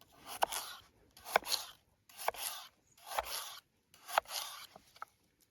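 A Ganzo G729 folding knife carves dry pine in five rhythmic rasping strokes, each a close, scratchy shaving burst with short pauses between.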